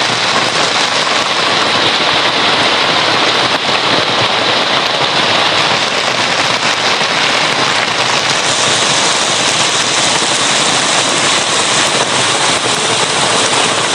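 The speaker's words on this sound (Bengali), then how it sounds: "গত রাতের বৃষ্টি সারা রাত হয়েছে এবং সারা দিন হইতেছে।" Heavy rain falling over a village after a whole night of downpour, a loud dense hiss that stays steady throughout without a break.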